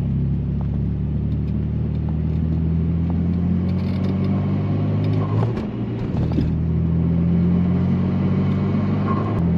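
A Saab 9-3 2.8T V6 turbocharged car cruising on an open road, a steady low engine drone and road rumble heard from inside the cabin, with a brief dip midway before the hum settles again.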